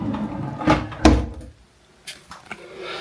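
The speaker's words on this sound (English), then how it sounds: "Just noticed there's a couple of drawers down here." Drawers in a hotel room slide and knock as they are opened and shut, giving a couple of short wooden thuds and rattles followed by quieter shuffling sounds.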